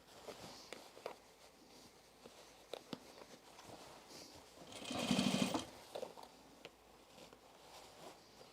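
A sewing machine stitches an overalls pocket in a quiet room, with faint intermittent clicks and handling sounds and one short, louder burst of stitching near the middle.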